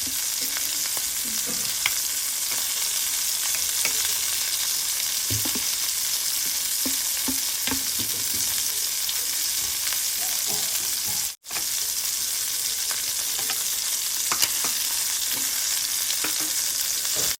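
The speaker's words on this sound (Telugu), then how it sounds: "మనం కలుపుకున్న మసాలా ఏమైనా ఉంటే ఇందులో వేసేసుకుని వేయించేసుకోవాలి" Fish frying with masala in a pan, a loud continuous oily sizzle with faint crackles and occasional stirring taps, going on steadily with no talk.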